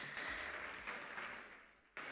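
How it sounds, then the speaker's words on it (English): Applause from an audience at a school event, a dense wash of clapping that fills the clip, moderately loud and steady, then briefly dips before resuming. "AI will not be stepping in for the applause"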